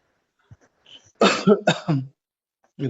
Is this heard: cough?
yes